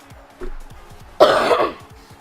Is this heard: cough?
yes